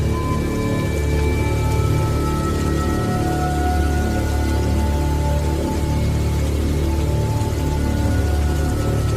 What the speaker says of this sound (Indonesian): Rintik hujan jatuh perlahan